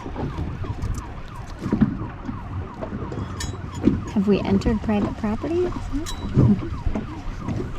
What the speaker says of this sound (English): How come that's just a police boat? A police boat? Where? I don't know, I hear sirens.